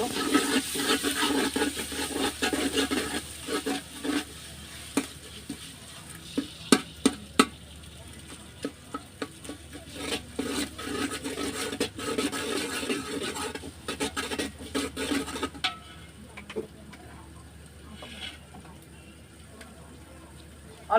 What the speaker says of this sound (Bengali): এখন কিছুটা কষিয়ে নেব